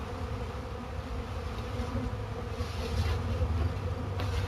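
Honeybees buzz around a kept hive in a dense, continuous swarm drone that swells slightly louder toward the end, with no talking.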